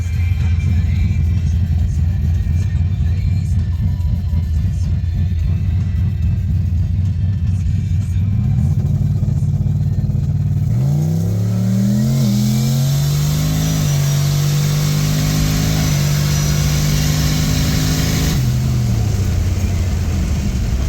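A turbocharged Pontiac G8 GXP running about 9 psi of boost idles with a low rumble, then launches into a hard acceleration pull, its engine note climbing loudly through the gears before easing off near the end.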